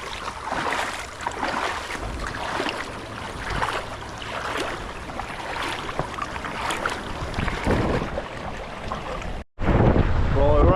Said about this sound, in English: the wind is not in our favour, of course